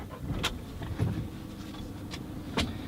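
Car cabin while pulling away for a drive, a steady low rumble of engine and road with a few soft clicks and knocks from inside, fairly quiet and even throughout.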